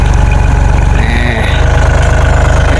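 A loud, steady tractor engine chugs at idle close by at a cassava loading site, with a rhythmic low thumping throughout and no pauses.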